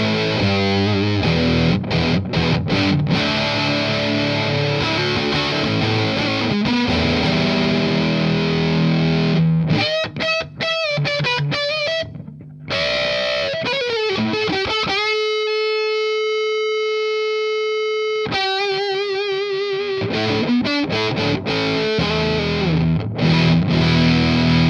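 Electric guitar through a Thorpy Muffroom Cloud fuzz pedal: loud, thick fuzzy riffs and chords, then a long sustained fuzzed note ringing alone before the heavy playing resumes.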